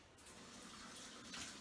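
Tap water runs steadily into a measuring cup as it is rinsed of flour in a home kitchen, a continuous close splashing flow lasting under two seconds.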